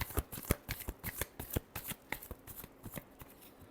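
Tarot cards are shuffled by hand in a quick run of crisp riffling flutters and soft slaps, close and clear, with no talking.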